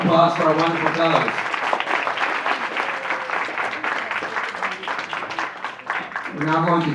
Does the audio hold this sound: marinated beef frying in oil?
no